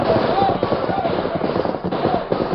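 Gunfire in a 1945 Lone Ranger radio drama shootout comes as a dense, continuous burst of rapid shots through the whole moment, with a noisy old-broadcast quality.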